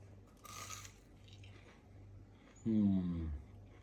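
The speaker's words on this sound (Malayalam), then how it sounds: "ഭയങ്കര ക്രഞ്ചി കേട്ടോ. ഞാൻ അറ്റം ഭാഗമേ കടിച്ചിട്ടുള്ളൂ." A sharp, loud crunch of someone biting the edge of a crisp fried chicken samosa, a short burst of brittle cracking after quieter background sounds.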